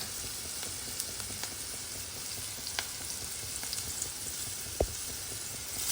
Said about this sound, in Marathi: आणि आता या मिरच्या टाकल्या या मिरच्या त्या तेलामध्ये चांगल्या परत परतल्या गेल्या पाहिजे